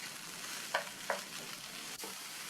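Raw banana pieces stir-fried in hot oil, a steady close sizzle broken by two sharp scrapes of a spoon against the pan and a soft knock near the end.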